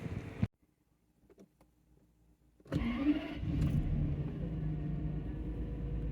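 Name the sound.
Toyota Century V12 engine running after spark plug replacement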